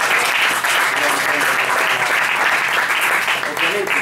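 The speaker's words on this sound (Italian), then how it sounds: "allora un applauso per Zen" A crowd at a book presentation on youth, mafia and the suburbs applauds a guest, steady loud clapping sustained throughout, with voices faintly mixed in.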